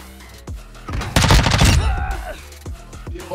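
Video game gunfire in a multiplayer match: a rapid burst of loud, close shots lasting about a second, followed by a few scattered single shots.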